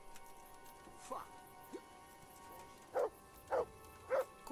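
A dog barks in Kingdom Come 2, with a few scattered yips early on and then three loud, evenly spaced barks near the end over a quiet outdoor ambience.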